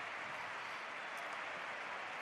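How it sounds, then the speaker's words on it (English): A stadium crowd at the Espanyol vs Barcelona match holds a sustained round of applause in the 21st minute as a tribute. It comes across as a faint, steady, distant wash of clapping with no voices on top. "There is the 21-minute applause."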